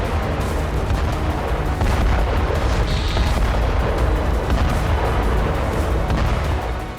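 Blasts at a Russian-struck Ukrainian weapons and ammunition depot in Ternopil or Khmelnytskyi, a continuous dense roar of rumbling detonations with cracking bursts, loud and sustained throughout with no talking.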